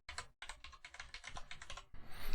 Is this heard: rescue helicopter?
no